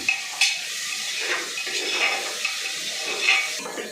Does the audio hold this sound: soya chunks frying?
yes